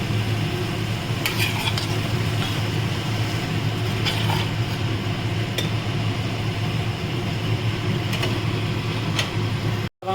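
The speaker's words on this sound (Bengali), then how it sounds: "খুব ভালো করে কষাতে হবে মশলাটাকে।" A spice paste with turmeric, coriander and salt is stirred and sautéed in a pan, giving a constant close sizzle. A few sharp scrapes and clinks from the utensil against the pan cut through it now and then.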